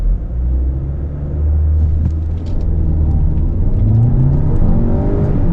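An Omoda 5 Premium 2024 SUV launched at full throttle in Sport mode, its engine rumbling low then rising steadily in pitch as it accelerates hard, loud and close, with no talking.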